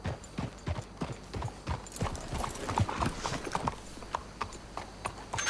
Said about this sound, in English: Let's hitch your horses up ahead.